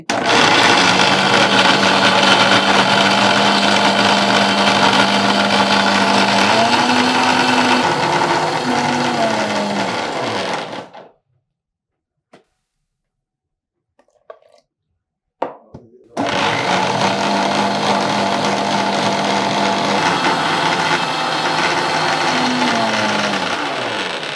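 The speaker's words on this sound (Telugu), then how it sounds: "కొంచెం కొంచెం ఒక్కొక్కసారి వేస్తూ మనం దీన్ని మిక్సీ చేసేస్తే" A loud, steady mixer grinder blending juice whirs for about ten seconds, a brief near-silent pause, then a second long burst of blending.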